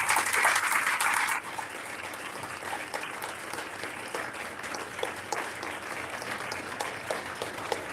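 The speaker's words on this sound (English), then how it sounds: "Can we get a round of applause for them?" A crowd applauds the candidates after a county commission debate in a school venue, a burst of loud clapping that quickly drops to a lighter, scattered patter that continues steadily.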